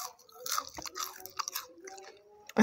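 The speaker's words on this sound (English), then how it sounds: "You hear that crunch?" Crispy fried food, similar to chips or sweet potato fries, crunching close up as it is bitten and chewed, with several uneven crackly bursts over a couple of seconds.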